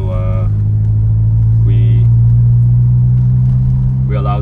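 A 1993 SAAB 900 Turbo S 16v Aero coupé drives along with a loud, steady low engine drone inside the cabin, a gear change happening gently as a voice talks intermittently over it.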